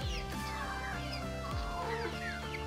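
Brahma rooster and other chickens clucking and calling in a poultry yard, a steady dense mix of bird vocalizations with overlapping calls throughout, fairly close.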